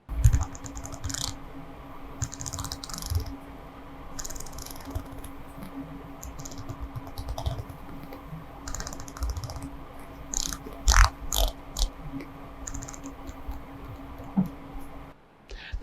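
The black ceramic bezel of an Omega Seamaster Professional Diver 300 turns close up, giving rapid, crisp ratcheting clicks in uneven bursts with short pauses, and no voices.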